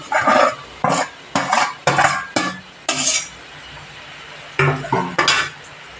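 Potatoes fried with pointed gourd seeds for a curry are stirred in a pan, a spatula scraping and clattering against the metal in a run of about ten quick, close strokes with brief pauses, over a low steady background hiss and no talking.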